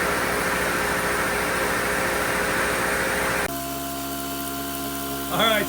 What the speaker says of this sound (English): there's our air compressor